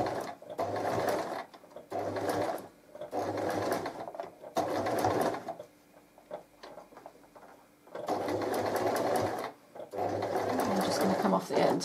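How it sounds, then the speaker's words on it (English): Sewing machine top stitching a zip into a fabric pouch, running in several steady bursts of rapid mechanical stitching with short pauses between them, close and clear. "I'm just going to top stitch that into place"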